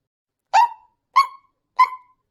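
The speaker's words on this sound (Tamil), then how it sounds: "ஒரு பப்பி குட்டி மழையில நனைஞ்சுக்கிட்டு இருக்கே" A cartoon puppy barks in the rain, three short evenly spaced yaps, clear and close, with silence between them.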